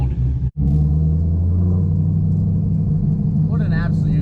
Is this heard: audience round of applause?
no